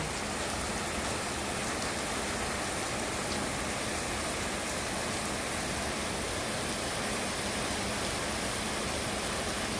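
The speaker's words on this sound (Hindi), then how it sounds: "मोटी मोटी बूंदा का तेज़ बारिश है।" Steady heavy rain with large drops pours down, a dense, unbroken hiss of drops striking surfaces, constant and loud throughout.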